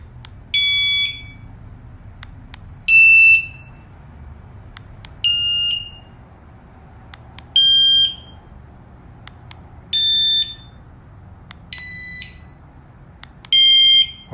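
Anti-theft alarm set to its lowest tone setting sounds seven repeated electronic beeping bursts at regular intervals of about two seconds, each a rapid warbling chirp with short clicks between, loud and close with no talking.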